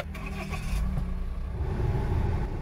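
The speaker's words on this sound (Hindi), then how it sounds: "गाड़ी चालू करना पड़ेगी।" A Tata Harrier BS6 diesel car engine cranks and catches, a short scraping starter burst settling into a rough low idle rumble, close and with no one talking.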